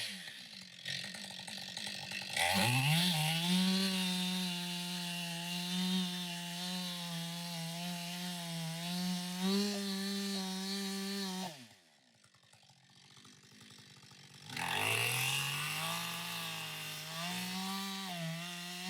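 Up close, a chainsaw starts with its chain brake engaged and runs at a steady high idle, then cuts out briefly before being started again. The engine sound is loud, with no talking.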